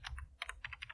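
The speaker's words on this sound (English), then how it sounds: "Now hit enter" Keys clatter on a computer keyboard while running a MySQL install command on Ubuntu: a quick burst of several crisp, close clicks within a second.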